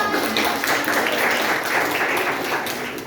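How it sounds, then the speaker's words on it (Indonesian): Dense, steady applause from a classroom audience during a microteaching session, clapping continuously at a moderate level throughout with no pauses. "Tepuk tangan buat Mas Paul."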